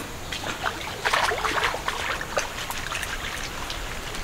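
Small mourola fish are swished and rinsed by hand in village pond water, making a steady run of close splashes and watery sloshing with no talk.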